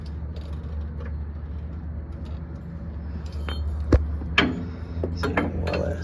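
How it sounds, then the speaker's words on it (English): A jack lifting the rear end of a first-generation Chevy S10 truck. Quiet background gives way to a run of metallic clicks and creaks, with a few sharper clinks near the end. "I gotta jack the rear end up a little bit more."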